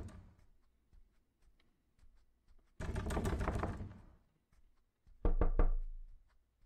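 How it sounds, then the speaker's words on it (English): Knocking on a door: after some faint scattered taps comes a long, loud rapid burst of knocks lasting about a second, then a short cluster of four sharp, heavy knocks near the end. "You can just keep on knocking at the door."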